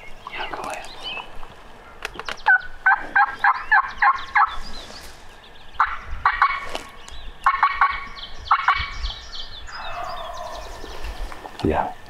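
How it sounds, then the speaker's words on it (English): Wild turkey gobbling on public land, repeated rattling gobbles in bursts from some distance outdoors, with quiet voices talking in between. "Let me see if I can get him to gobble first."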